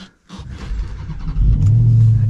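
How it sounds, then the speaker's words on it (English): A Dodge Challenger SRT Hellcat Redeye engine cranks and fires up after a brief pause, settling into a loud, deep, steady rumble close by. "let's fire this Hellcat back up"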